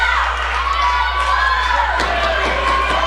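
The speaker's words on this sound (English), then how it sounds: "For the crowd is cheering." Crowd cheering and shouting at the decisive seventh match of a best-of-seven contest, a dense, steady roar of many voices with whoops rising above it, loud throughout.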